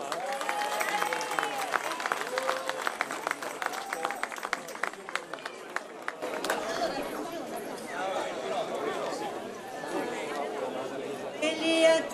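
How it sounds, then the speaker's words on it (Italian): Applause and crowd chatter at an evening village festival in Gambatesa, Molise, greeting a couple and their friends; a steady mid-level wash of clapping mixed with talking voices, swelling briefly near the end. "Accoglieteli con un forte applauso."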